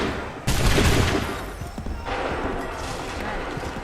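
A musket volley fires in Assassin's Creed III, a loud burst of massed gunfire followed by a sustained rumbling roar and scattered cracks.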